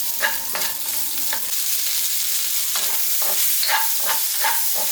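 Pork belly, garlic and onion stir-frying in a hot pan for fried rice, a steady close sizzle broken by repeated scraping stirs of the spatula.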